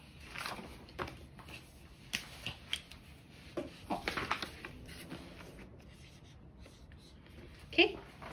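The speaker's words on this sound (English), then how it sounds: "let's go ahead and write that out" A pen scratches out a word by hand on paper in a short spelling lesson, with light irregular strokes and taps, close and quiet, ending with a sharper rustle. A teacher's voice is present.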